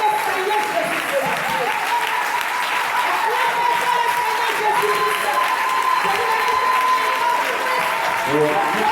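A church congregation applauds and praises the Lord Jesus during a Sunday service, giving a dense, steady wash of clapping throughout, with voices calling out beneath it.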